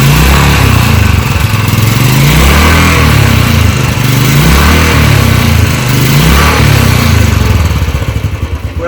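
A new motorcycle idles and revs up close, its exhaust note loud and throbbing in a steady pulsing rhythm, easing off slightly near the end with no talk over it.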